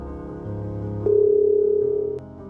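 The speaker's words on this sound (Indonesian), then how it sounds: "Kayaknya gua harus telepon Miko." A steady telephone dial tone sounds while a call is being placed, holding clear and continuous for about a second over a low background hum before cutting off.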